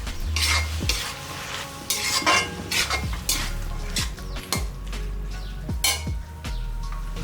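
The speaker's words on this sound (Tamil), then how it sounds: "எண்ணெயிலே நல்லா வதங்கிடுச்சு." Boiled potatoes sautéing in oil in a pan while a spoon stirs and scrapes them, giving a steady sizzle broken by repeated clinks and scrapes of metal on the pan, close and fairly loud with no talk.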